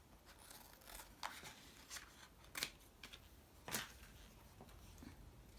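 Scissors cutting a strip of fabric, a series of soft, close snipping strokes spaced about a second apart, quiet and alone.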